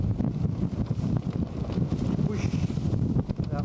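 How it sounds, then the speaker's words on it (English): Strong gusting wind buffets the microphone aboard a sailboat in rough South Pacific seas, gusts near 32 knots over steady 25, a continuous loud roar with surging swells and no talk. "It's been blowing up half a gale"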